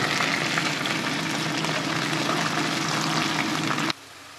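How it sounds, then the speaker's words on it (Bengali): Onion, garlic and whole spices including cardamom, cinnamon and bay leaf fry in a pan with a loud, steady, dense sizzle that cuts off abruptly near the end, leaving a quieter hiss. "বন্ধুরা, আমার অনিয়ন গার্লিক ফ্রাই হয়ে গেছে, গরম মশলাও ফ্রাই হয়ে গেছে।"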